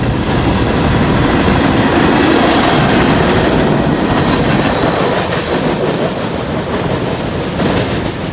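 A freight train rumbles steadily past close by, heavy wheels clattering on the rails with a continuous roar that barely eases over several seconds.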